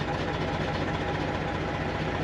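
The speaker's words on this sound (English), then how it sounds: "You hear that engine?" A truck engine idling at a truck stop, a steady low rumble droning without change, fairly close and continuous throughout.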